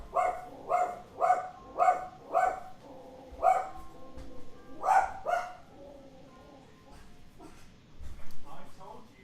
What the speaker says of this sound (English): He's complaining now. That would be the dog.